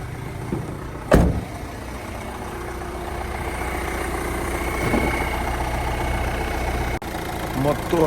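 A 2017 Renault Master 2.3 van engine idles steadily and evenly under the open hood, a constant mid-pitched hum with a brief louder knock near the start, while someone talks over it.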